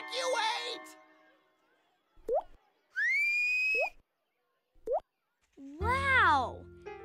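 A whistle mimics water dripping in a cave, giving a handful of quick, bright plinks and rising glides spaced apart in near silence, with voices talking at the start and end.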